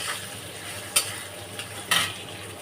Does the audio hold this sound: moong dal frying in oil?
yes